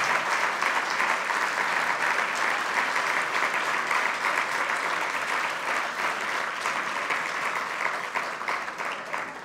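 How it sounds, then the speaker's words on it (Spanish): Steady, dense applause from an audience at the inauguration of a Casa del Pueblo in Lasarte-Oria, continuous and fairly loud for the whole stretch with no clear speech over it. "Creo que os merecéis un enorme aplauso"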